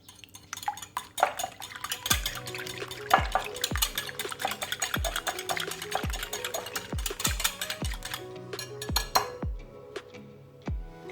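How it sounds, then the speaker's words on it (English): Rapid metal-on-glass taps as an egg is whisked with a fork in a bowl for a malva pudding batter, a steady run of sharp, close clicks repeating roughly twice a second with faint kitchen hum beneath. "now I'm just going to beat up the egg"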